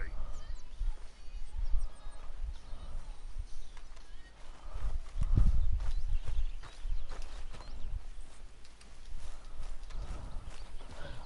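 A horse walks in Red Dead Redemption 2, its hooves clopping in a steady, unhurried rhythm with low thuds and tack jingle, a brief whinny audible, while a voice talks over it.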